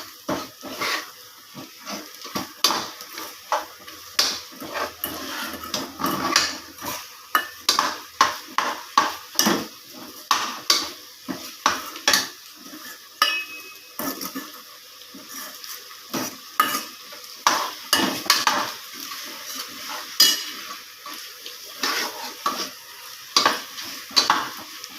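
Chicken with ground masala of cumin and pepper is sautéed in an oily pan, with a spoon scraping and stirring in quick rhythmic strokes over a soft, constant sizzle.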